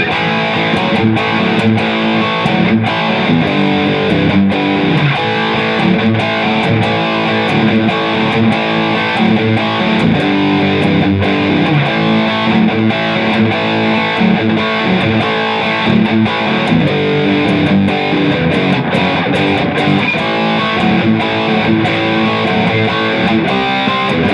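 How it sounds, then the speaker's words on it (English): A continuous, loud distorted electric guitar plays the driving rhythm part of a song behind the solo, with steady strummed chords and no voices. "I'm doing what the rhythm guitars are doing behind the solo"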